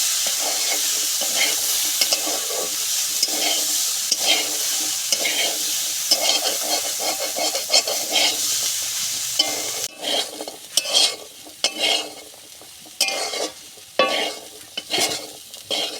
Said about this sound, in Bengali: নেড়ে চেড়ে ভাজাটা খুব সুন্দর মতো করে নিয়ে নেব